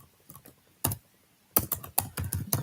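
Keystrokes on a computer keyboard while entering a gold (XAUUSD) trading signal: a couple of isolated taps, then a quick run of close, crisp clicks near the microphone, with no talking.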